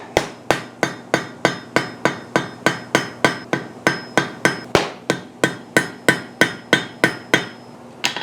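Hammer blows land on hot iron being forge welded for a trivet, a steady run of about twenty-eight loud, ringing strikes spaced evenly, roughly three per second, with no talking.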